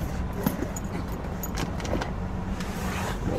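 A car creeps forward at a gas station, a low engine rumble with rustling and faint jangling clicks from inside the vehicle, heard close and without talk.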